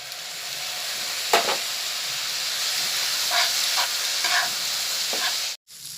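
Chow mein stir-frying in a pan with tomato sauce and soy sauce, a steady loud sizzle and hiss with a few spatula scrapes and taps.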